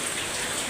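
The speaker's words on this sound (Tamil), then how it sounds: "இடி வேற நல்லா இடிக்கு, மழை தண்ணி வேற இப்படி இருக்கு." Heavy rain falls during a thunderstorm, a dense, steady hiss of drops on surfaces, close and constant, with no thunder or voices in this short stretch.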